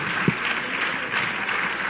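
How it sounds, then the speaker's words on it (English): A church congregation claps together in steady applause, a dense, sustained patter filling the room, with a brief voice briefly audible over it. "Hallelujah. Let's clap."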